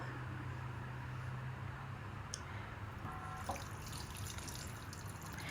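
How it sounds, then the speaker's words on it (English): Water pours steadily into a pot of Ghanaian seafood okra stew, a continuous close liquid wash with a few small drips and splashes, no talking. "And then I am going to add some water."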